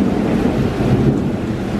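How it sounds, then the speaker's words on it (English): Heavy rain pours outside during an evening thunderstorm, a steady dense roar with no breaks, fairly loud and even throughout. "So yeah, it's raining pretty heavy out."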